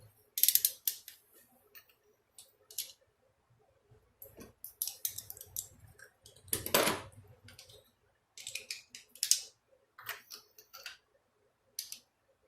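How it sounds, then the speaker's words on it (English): Scattered clicks, ratchet ticks and creaks come from a torque wrench tightening iridium spark plugs on a 2004 Toyota Camry 3.0L, in short bursts between quiet gaps. "get yourself a torque wrench here. Set it to about 18 to 18 and a half foot-pounds."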